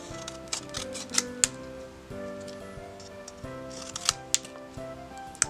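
Scissors snip through paper while making a gold-covered Christmas pocket letter, giving a few sharp close clicks and crisp cuts over a steady background of faint music.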